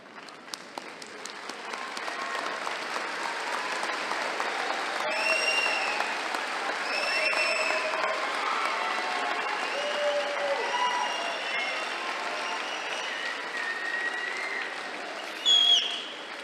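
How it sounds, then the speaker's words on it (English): At a spring commencement ceremony, graduates applaud their families and friends, sustained crowd clapping that swells and holds steady with scattered cheers and whistles, rising to a louder burst near the end. "I want all of our graduates to salute with your applause your family and your friends"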